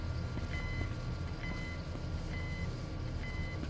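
A machine in a video game gives regular high beeps, about one per second, over a loud, steady diesel engine rumble.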